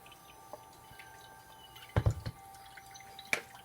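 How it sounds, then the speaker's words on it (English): An herbal decoction being strained through a straining bag, giving scattered drips and a few louder splashy drops against a quiet background, close by and faint. "I'm just going to strain it into a straining bag here."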